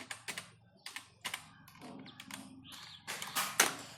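Typing on a computer keyboard while entering text into a Microsoft Word page, a quiet close run of irregular key clicks with short pauses and a quicker burst near the end.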